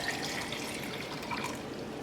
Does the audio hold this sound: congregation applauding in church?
no